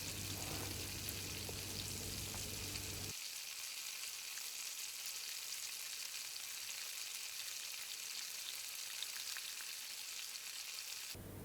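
Onions fry in oil for chicken korma, giving a steady, close, continuous sizzle that grows denser after the first few seconds and holds without any talking.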